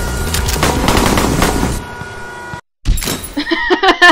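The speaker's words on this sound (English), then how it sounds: "Shooting from a moving vehicle is actually really hard, especially if you're supposed to be driving." Rapid automatic gunfire fired from a moving vehicle in The Henry Stickmin Collection game, a dense burst of shots followed by a brief silence and then scattered clanks and impacts.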